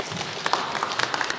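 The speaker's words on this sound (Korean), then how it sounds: "큰 박수 다시 한번 부탁드리겠습니다" An audience claps after a presentation at a public event in Ulsan, Korea. The dense, fairly faint applause continues steadily throughout the short stretch.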